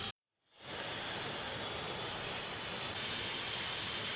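Milk tea sweetened with jaggery and mixed with water rolls to a boil in a pot, giving a steady, loud hissing rush that swells in after a brief silence and holds, with no talking.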